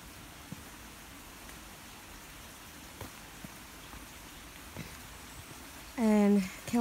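The Kelburn, a mountain stream at Kelburn Castle and Country Centre, flows as a steady broadband rushing hiss throughout, moderately distant, with a few faint knocks and a voice speaking briefly at the end.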